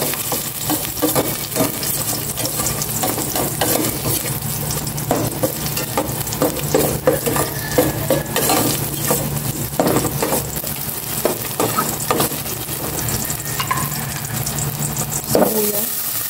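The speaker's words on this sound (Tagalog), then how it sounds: "Maglagay na ako ng cooking oil. Gisa ko na po bawang." Garlic sautéing in hot cooking oil, a steady sizzle with frequent stirring scrapes and clinks running throughout at close range, with no talking.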